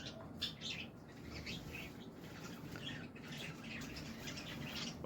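Pet birds squawk and chirp almost without pause, with bursts of wing flapping, fairly close and steady for the whole stretch, and no one talks.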